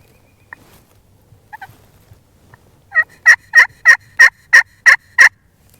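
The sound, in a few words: wild turkey gobbler gobbling in spring woods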